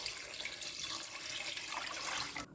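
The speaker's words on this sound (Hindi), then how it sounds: "इसमें मैं डाल दूँगी 2 लीटर पानी" About two litres of water pour steadily into a pot holding 200 grams of boneless chicken for Manchow soup, a continuous close splashing rush that stops abruptly at the end.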